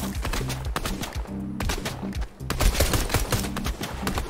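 AUG assault rifle fire in Fortnite, rapid bursts of shots repeating steadily throughout with a brief lull midway, loud and close.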